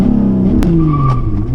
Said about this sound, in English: I'm just gonna launch it at 4 and dump the clutch.